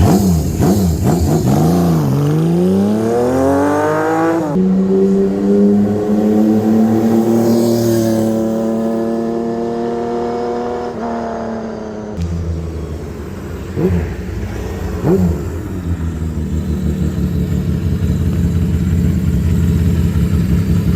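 A loud Benelli Sei 900 motorcycle engine revs repeatedly, rising and falling in pitch, settling into idle between throttle blips, close and dominant throughout.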